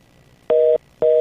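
Two identical electronic telephone tones, each about a quarter second long with a short gap between them, heard on a phone line during a call-in radio show. The beeps are steady and fairly loud, and no one speaks.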